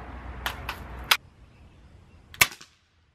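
A suppressed Daisy 880 airgun fitted with a DonnyFL Ronin suppressor fires several shots, each a short, dry snap followed by a faint tap downrange, with a couple of crisp shots standing out close by and no talking.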